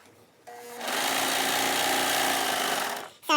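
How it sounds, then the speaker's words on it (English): An overlocker stitches a crotch seam on a pair of pants, running as a steady close-up mechanical whir for about two and a half seconds after a brief start, then stopping. "I am going to overlock this crotch seam together."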